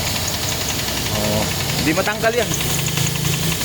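A 2007 Toyota Altis 1.6 engine running with a steady mechanical rumble and knocking, heard up close under someone talking.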